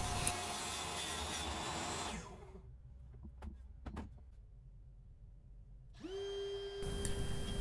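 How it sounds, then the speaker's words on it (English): A power tool, set near a 20-degree bevel, cuts a decorative groove around a wooden post for a backyard boat build, loud close whine that stops for a few seconds of light knocks and handling, then starts again. "What I'm doing here is cutting a beveled groove all the way around the perimeter of the post"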